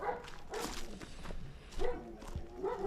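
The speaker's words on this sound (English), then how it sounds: "This dog did sound very nuts" Agitated dog barks and yelps repeatedly at moderate distance amid outdoor background noise, during an evacuation of dogs from a war zone in Ukraine; no clear speech over it.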